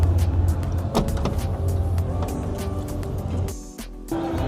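Land Rover Defender Octa rear door being worked, a motorised whirr with clicks and clunks, then a brief hush and a solid close near the end, heard up close with no talk.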